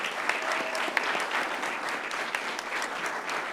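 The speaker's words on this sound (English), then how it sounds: "Let's give them another big round of applause." An audience at a city council meeting gives athletes a dense, steady round of applause, many hands clapping continuously at close range with no break.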